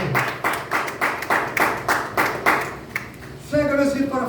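Church congregation clapping in rhythm, about eight or nine sharp, evenly spaced rounds of claps at a steady beat, then a voice takes over at the end.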